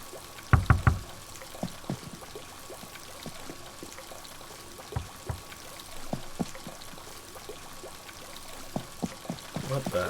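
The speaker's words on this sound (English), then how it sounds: "I'm gonna go take a bath." Water pours and trickles from a bath and shower inside a house in Animal Crossing: New Horizons, a soft continuous stream under faint clicks and a few sharp taps.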